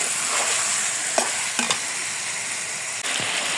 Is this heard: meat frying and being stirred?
yes